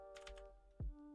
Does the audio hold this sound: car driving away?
no